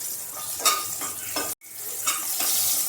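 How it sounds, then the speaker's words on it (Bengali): Spices and green chillies fried in hot oil and stirred in a pan, a steady sizzle broken by a few scraping strokes of the spoon, close and clear, with a brief drop to silence midway. "মশলা একটু তেলের সাথে নেড়ে নিচ্ছি"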